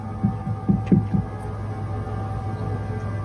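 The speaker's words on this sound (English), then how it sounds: "judging from the scary knocking sounds that come from that area" A few dull, muffled knocks thud in a loose cluster over a steady low hum, then only the hum remains.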